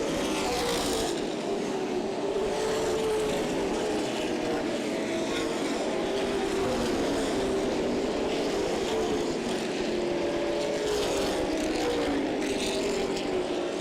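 Stock race cars competing on an oval at Berlin Raceway: a dense, continuous roar of several engines with rising and falling pitch as cars pass, loud and sustained, with no talk over it.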